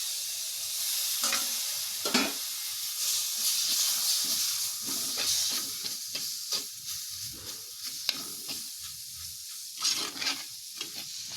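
Tomatoes sauté with spices in a pan with a gentle, hissing sizzle. The spoon stirs and scrapes in repeated bursts, and there is one sharp knock partway through.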